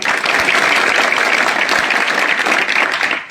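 Audience applause from a crowd at a public gathering in Maharashtra, loud, dense and steady clapping lasting a few seconds before tapering off at the end.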